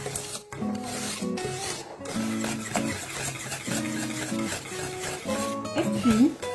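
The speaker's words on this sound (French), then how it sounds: "je reste mélanger un petit peu comme ça avec mon fouet" A whisk works a thick cream for a chocolate and coffee log cake, giving repeated rubbing, scraping strokes against the bowl in short bursts, fairly close with faint background noise.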